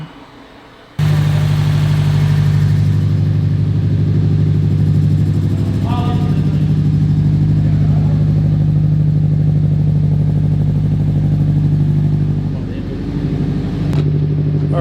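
An S209 car's engine fires up for its first start after a short quiet lead-in, then settles into a loud, steady, close idle with a constant low rumble.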